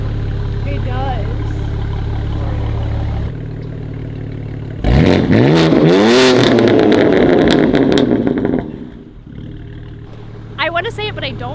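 Close and steady, a BMW G80 M3 Competition fitted with an iPE exhaust idles, then snaps into a loud surge of revs for a few seconds before dropping back to idle, with people talking alongside.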